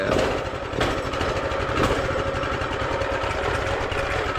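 A minibike with a swapped-in 212cc engine idles steadily up close, a loud continuous rumble with a slightly uneven, chugging pulse and no talking.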